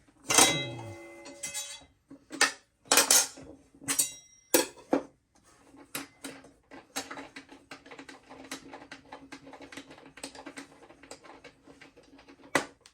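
A wrench works the blade nut loose on a Kobalt 10-inch table saw. A handful of sharp metallic clanks and clicks come first, followed by a quieter run of light, rapid ticking and rattling as the nut spins free, close and alone.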